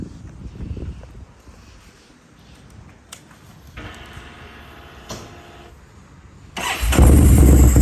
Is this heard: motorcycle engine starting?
yes